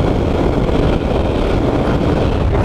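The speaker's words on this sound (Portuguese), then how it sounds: "Tá ventando muito, tropa." Strong wind buffets the rider on a Honda Bros 160 motorcycle, a loud, dense, steady roar that fills the whole stretch with no talking over it.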